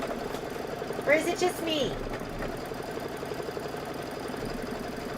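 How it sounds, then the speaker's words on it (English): A sewing machine stitches a quilt block for a Kimberbell Sweet as Pie sew-along, its steady close mechanical hum running throughout while someone talks over it. "This is going to take 4 minutes of stitching."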